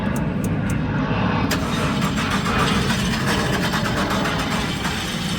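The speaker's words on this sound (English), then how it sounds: "Trying to start, but just not, doesn't sound like it's getting any fuel right at the moment." A car engine at a Norfolk police auction cranks repeatedly without catching, apparently starved of fuel. The steady loud churn is overlaid with rapid rhythmic clicks, with no talk during the cranking.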